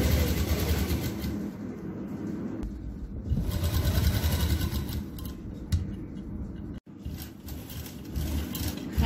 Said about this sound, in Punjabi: ਇਹ ਮੈਂ ਵੈਸੇ ਤੁਹਾਨੂੰ ਹਜੇ ਕੱਚੀ ਸੀਨ ਲਗਾ ਕੇ ਦਿਖਾ ਰਹੀ ਹਾਂ